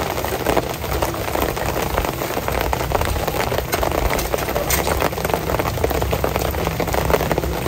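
Steady rain pattering on a nearby surface, a continuous dense crackle of drops that stays close and fairly loud throughout, with no talking.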